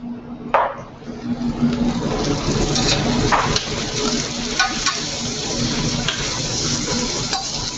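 Onion browning in a pan with a little sugar and salt, a steady close sizzle with scraping stirs and occasional utensil clinks against the pan.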